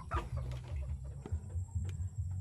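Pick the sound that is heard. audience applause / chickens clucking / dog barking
chickens clucking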